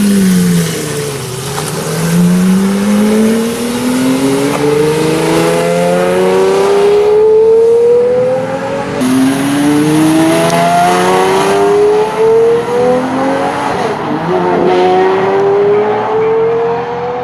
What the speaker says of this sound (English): the Jag's V12 sound is a must listen